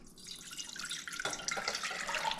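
Water pours from a tap into a pot, two cups for making coffee, a quiet trickle that turns to a fuller, splashing stream about halfway through.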